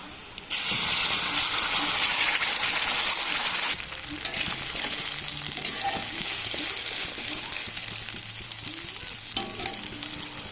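Onions frying in a pan as ginger, garlic, cumin and dried chilli paste go in, a sudden loud hiss and sizzle that settles into steady crackling with some stirring, close and without talk.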